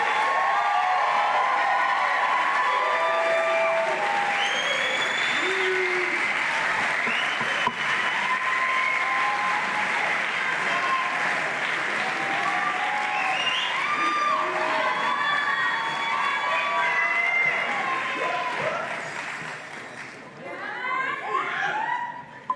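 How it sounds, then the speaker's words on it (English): Audience applause and cheering for graduates at a spring graduation ceremony, sustained loud clapping with shouts, laughter and crowd voices throughout before tapering off near the end. "I'd just like to give one more round of applause for all of our graduates tonight."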